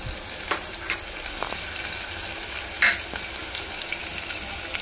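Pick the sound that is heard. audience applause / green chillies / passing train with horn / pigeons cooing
green chillies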